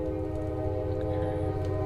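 A train passes with a long, loud, steady horn blast sounding outside a town hall meeting room, the rumble of the rail cars underneath.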